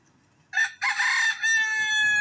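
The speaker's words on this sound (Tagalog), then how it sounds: "Sarap ng buhay ng aking alagang manok." A pet rooster crows loudly and close by in two bursts, a short call followed by a long drawn-out crow, with a faint second bird call trailing at the end.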